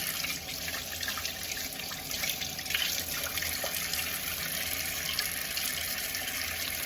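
Tap water running steadily into a sink while vegetables are rinsed under it, a continuous close splashing hiss with small shifts as the food moves through the stream, no talk.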